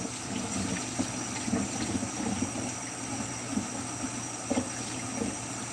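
Water runs steadily from a kitchen tap while a knife is rinsed in a home kitchen, a continuous moderate splashing stream with a few brief clinks.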